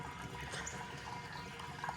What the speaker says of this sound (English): you're probably wondering why I'm pouring diluted washer fluid into this big ball